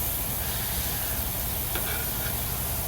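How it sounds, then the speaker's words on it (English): Smash burgers sizzle loudly on a hot griddle, a dense close hiss with a brief scrape as a patty is flipped. "So, alright, we're ready to flip our burgers."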